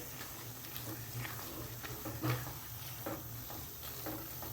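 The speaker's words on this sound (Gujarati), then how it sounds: "હવે એમાં આપણે ટમેટા એડ કરી દઈએ. ટમેટા મિક્સ થઈ જાય" Tomatoes for pav bhaji sizzle softly in a pan while a spoon stirs them, with several scraping strokes over a low continuous frying hiss, fairly quiet and close.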